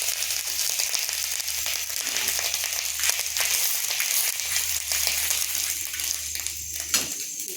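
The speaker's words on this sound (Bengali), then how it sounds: "আমি ঘিয়ের সঙ্গে আদাটা ভেজে নিচ্ছি" Ginger frying in hot ghee, a steady dense sizzle holding throughout at moderate level with faint occasional clinks, no talking.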